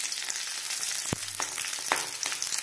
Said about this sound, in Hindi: तेल गर्म हो चुका है। अब मैं इसमें ये कटा वाला प्याज डाल लेती हूँ